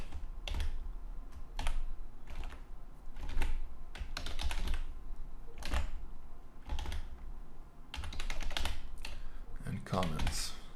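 Computer keyboard keys clatter in irregular bursts of close, fast typing while someone writes code comments in a PHP file. Short pauses fall between the flurries, and there is no talk.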